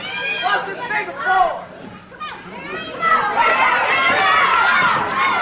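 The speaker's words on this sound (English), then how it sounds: "Crowd partisan for Lawler, obviously. Trying to cheer him on and get him going" A wrestling arena crowd shouts and cheers for Lawler in a dense, continuous roar of many voices, with higher yells rising out of it and a brief dip before swelling again.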